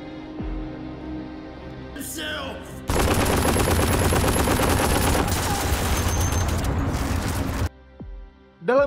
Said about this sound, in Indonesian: Charlie berhasil menembak salah satu anggota Ira.